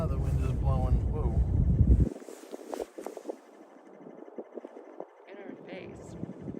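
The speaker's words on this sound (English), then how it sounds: "Right now the wind is blowing, whoa." Wind at Kilauea volcano buffeting the microphone, a loud low rumble during the first two seconds that drops to a softer gusty hiss, with voices talking throughout.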